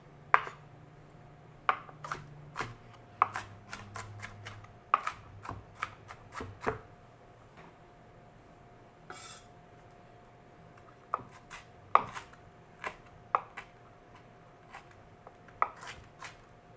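A kitchen knife chops and scrapes food on a cutting board while chickpea tacos are being made, giving sharp, irregular taps spaced a second or two apart, close and fairly crisp against a quiet background.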